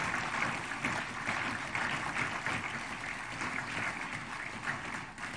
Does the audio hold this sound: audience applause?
yes